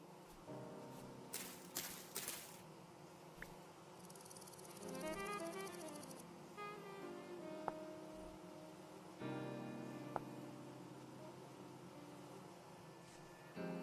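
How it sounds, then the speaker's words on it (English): Bees in the video game Vintage Story give off a faint, steady insect buzz, with scattered soft in-game clicks and footsteps around it. The whole scene is quiet and nobody speaks. "Definitely bees here."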